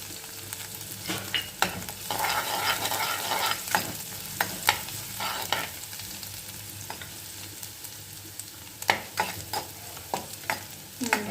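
Garlic and ginger fry in sunflower oil in a pan, a steady close-up sizzle broken by frequent scraping and clacking as a spatula stirs them.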